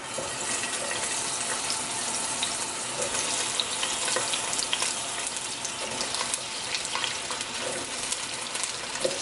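Green and orange peppers frying in grapeseed oil for ratatouille, a dense, even hiss of sizzling that holds steady and loud from start to finish with no talking.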